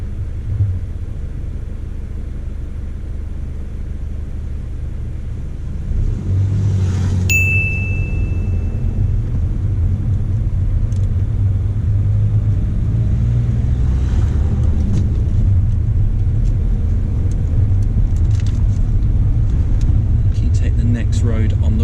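A car pulling away during a driving test: a low engine rumble that steps up and grows steadily louder as it moves off, with a brief electronic chime and quiet talk inside the cabin.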